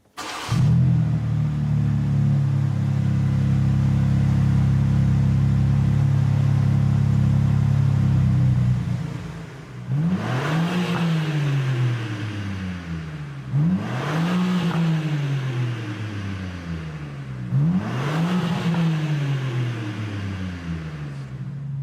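A BMW M4 CSL engine fires up and settles into a loud, steady idle, then is revved three times in succession, each blip rising sharply and falling away, heard up close with no talking.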